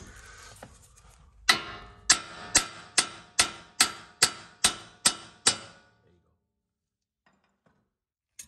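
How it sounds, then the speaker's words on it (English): A hammer strikes a bolt on a CV axle nine times in a steady rhythm, each blow ringing briefly, close and loud, then silence. "I will hit with the hammer."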